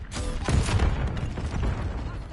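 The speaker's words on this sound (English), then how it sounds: "What even are these explosions? Constantly." Explosions and gunfire in a Call of Duty: Black Ops 6 Hardpoint match: repeated booming blasts and crackling shots overlap in a busy, loud barrage, with no voices.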